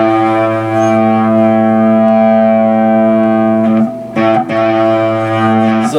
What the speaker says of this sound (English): So the distortion comes in here.